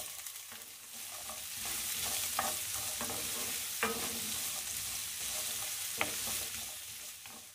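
Chopped garlic, ginger and carrots frying in a pan, a steady broad sizzle with scattered sharp clicks of a utensil stirring and scraping, close and continuous without talk.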